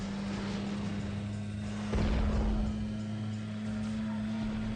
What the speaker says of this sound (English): Homing missile.